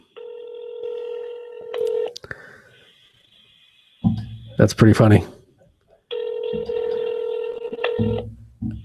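Touch-tone dialing beeps while calling a cell phone, a quick series of stacked tones, then a pause, a burst of laughter and talk, followed by another long tone sequence near the end.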